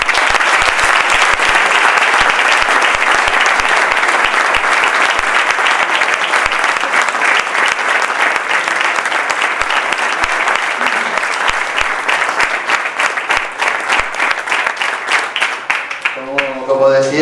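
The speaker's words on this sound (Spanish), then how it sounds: "un sincero aplauso en memoria de todos ellos." A large crowd applauds in memory of the football pioneers of Puerto de la Cruz, a long, steady, loud ovation that carries on without a break and thins slightly toward the end.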